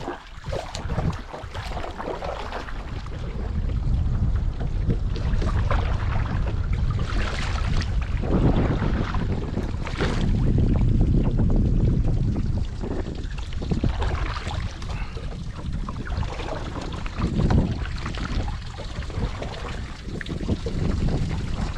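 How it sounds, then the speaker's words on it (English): Strong wind roars steadily across the microphone while paddling on the Buffalo River, a dense buffeting rush that runs unbroken with no talking. "I don't know if you can hear that wind on this video"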